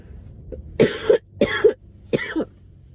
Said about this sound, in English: Sorry guys, okay, stop coughing.